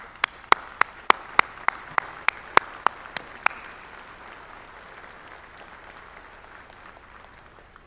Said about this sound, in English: Cricket, you deserve our applause.